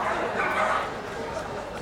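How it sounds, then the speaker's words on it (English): A Lakeland Terrier at a championship dog show gives short yips and barks amid a busy indoor hall, with an announcer talking over the sound. "There's a nimble Lakeland Terrier"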